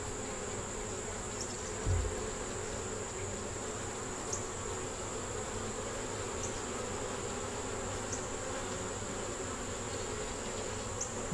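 Honeybees buzz steadily in an open hive while brood frames are moved around, a dense continuous hum close to the microphone, with a brief knock partway through.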